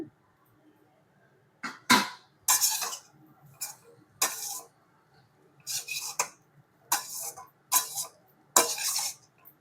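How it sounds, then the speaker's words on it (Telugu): A spoon scrapes and clatters in a pan as egg fried rice is stirred with coriander, in a series of short irregular strokes separated by near silence, close by, with no talk. "ఇప్పుడు కొంచెం కొత్తిమీర వేసుకొని మిక్స్ చేసుకుందాం"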